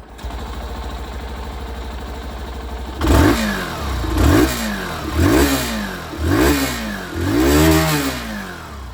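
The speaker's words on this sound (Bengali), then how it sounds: "এক্সস্ট সাউন্ডটা আপনাদের শুনে একবার শোনাবো" Hero Super Splendor Xtec 2.0 motorcycle with a chrome-covered metal muffler, idling quietly before a series of five sharp throttle blips that rev the exhaust up and let it fall back, each burst louder and closer than the idle.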